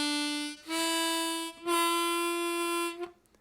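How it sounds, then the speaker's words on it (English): Harmonica tone on the 2 draw hole, bent down a whole step: three sustained held notes with a slight pitch drop after the first, played alone and close, then tailing off. "we have to bend the 2 draw down a whole step"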